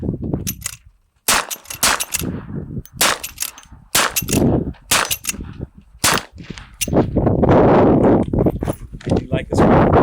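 Several sharp gunshots from an 1873 Winchester lever-action carbine ring out in an irregular sequence, with metallic clanks between them like the lever being worked, close and loud, and steady wind noise toward the end.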